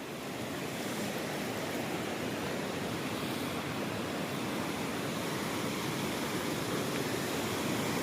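A cold mountain stream rushes steadily and loudly, a dense, unbroken roar of flowing water with no pauses from start to finish.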